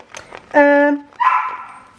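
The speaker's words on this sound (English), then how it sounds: "My dog decided to talk too." A dog gives one loud, clear bark followed by a shorter, rougher yelp-like vocalization, close by and alone indoors.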